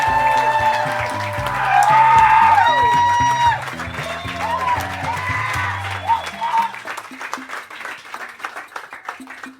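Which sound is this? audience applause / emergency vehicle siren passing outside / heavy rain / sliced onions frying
audience applause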